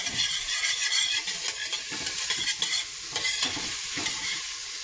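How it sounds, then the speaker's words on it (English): Home-grown garden garlic sautéing in olive oil in a pan, giving a loud, continuous close-up sizzle and crackle with stirring scrapes throughout, and no voices. "So I'm just going to saute that a little bit."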